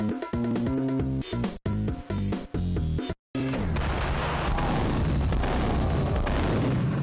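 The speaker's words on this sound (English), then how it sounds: "No grenades! No grenades! Max Payne don't like grenades!" Grenade blasts and heavy booms from the Max Payne GBA game, loud and close, following a stretch of rhythmic game music, then a sustained roaring rumble after a brief drop to silence.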